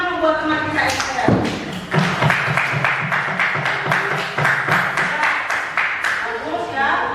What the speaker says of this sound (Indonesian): Tepuk tangan dulu buat teman kita Esther.